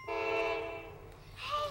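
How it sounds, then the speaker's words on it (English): A train horn sounds in one sustained, close, fairly loud blast, fading out before a second brief horn tone starts at the end. "Oh, the choo-choo, choo-choo! The train!"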